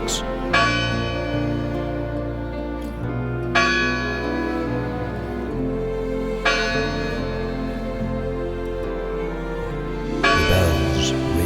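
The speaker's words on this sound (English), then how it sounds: "The bells ring, and the Reverend ends his sermon." Church bells ring out at midnight, several strong peals struck in slow succession with long ringing tails overlapping into a dense, sustained wash of tone.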